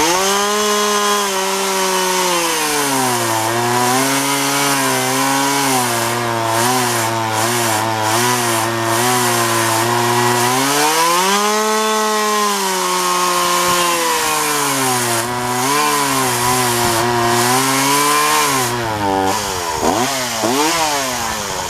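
A Jonsord 2036 Turbo chainsaw whose carburetor may need adjusting and whose chain is loose runs loud and close for about twenty seconds, its engine note rising and falling in steady revs, with no voices.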